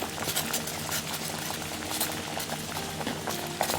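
A pot of pickled bamboo shoot curry with tilapia boils steadily on the stove, with a dense, continuous bubbling and simmering hiss up close and no talking.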